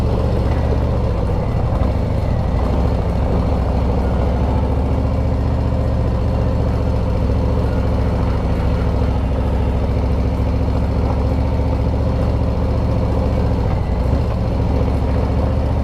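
A motorcycle rides a long stretch of coarse, good-sized gravel on Route 12 heading north through New Hampshire, its engine droning steadily and loudly throughout with a continuous low rumble and rough road noise, no talking.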